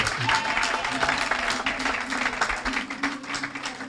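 A church congregation applauds and cheers at a moderate level, a steady patter of hand claps blended with voices that continues without a break.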